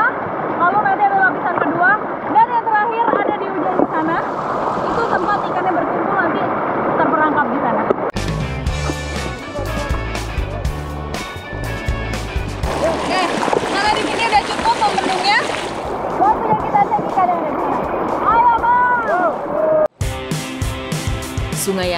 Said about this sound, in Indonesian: Di situ airnya deras banget, bener-bener deh.